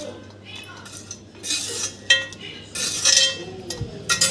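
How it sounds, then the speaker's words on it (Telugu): Chopped onion, tomato, coriander and curry leaves are mixed in a bowl. A spoon clinks and scrapes against the bowl in irregular bursts, up close. "ఆనియన్ టమాటో కొత్తిమీర కరివేపాకు మొత్తం దీంట్లో మిక్స్ చేసుకోవాలి"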